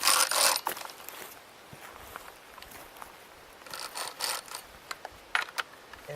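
Chainsaw chain tensioner cranked tight at a Montana ranch during fuel-reduction tree felling, giving a few close, quiet ratcheting clicks and mechanical rattles in short bursts, with stretches of faint background between.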